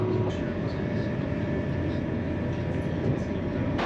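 A steady, loud rumble from inside a fast-moving high-speed train in Italy, with constant wheel and carriage noise throughout and no clear speech.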